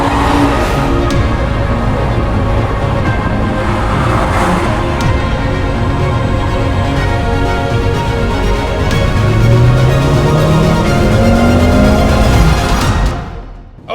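A hand-built AMG engine in a 2024 Mercedes-AMG GLC 43 Coupe revs hard in race mode, a loud, continuous drone with rising pitch sweeps as it accelerates, cutting off abruptly near the end.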